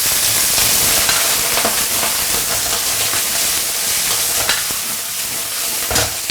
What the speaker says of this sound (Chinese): 先给它头部炒一炒